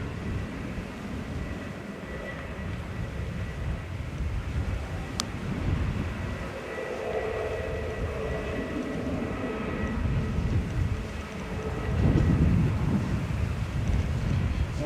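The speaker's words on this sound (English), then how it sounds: "I imagine this will be the last landing on this runway for the evening." An airplane lands on a runway at Manchester Airport with a distant, steady engine roar under wind buffeting the microphone. The roar swells louder toward the end, and no one speaks.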